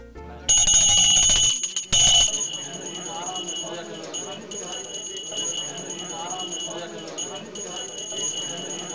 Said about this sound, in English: they are made to respond to a bell whenever it rings.